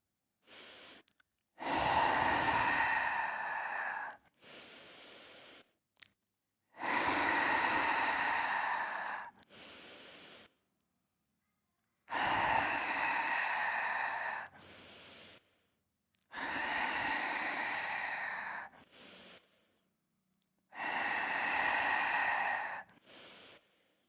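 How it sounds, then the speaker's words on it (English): Forceful yoga exhalations out through a wide-open mouth with the tongue fully extended, from the pit of the throat: five long, loud breathy rushes of air, each a few seconds long, separated by quiet pauses for nasal inhales. "you're breathing out from your pit of your throat while keeping your tongue out fully and opening your mouth"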